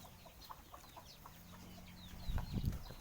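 Chickens cluck in scattered short calls across a morning rice-field farm, faint and a little distant, with a louder burst of nearby rustling or handling noise toward the end.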